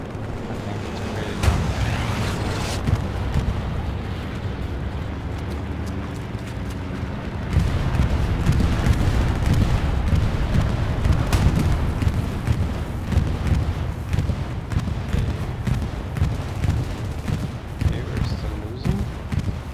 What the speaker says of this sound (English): But with the bombing run